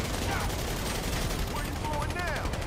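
Gunfire in GTA 5 during a Dr. Dre heist mission, a steady dense barrage of shots filling the whole stretch with constant rattling and booming, with game sounds and chatter mixed in.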